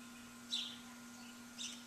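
Birds outdoors give two brief, faint chirps about a second apart over a low steady hum.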